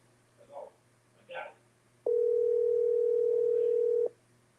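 A steady electronic telephone tone hums continuously for about two seconds after a few soft murmured sounds, close and clear.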